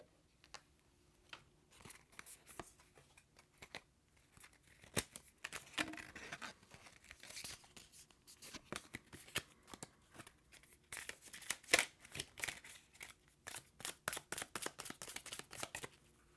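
Fortune cards shuffled and drawn, nearby dry papery riffles and slaps that come in irregular bursts and grow busier and louder toward the end, with no talk.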